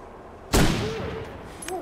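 A single sharp gunshot in the video game The Long Dark, fired at a wolf, bursts out and rings with a tail of echo, followed by a faint metallic click.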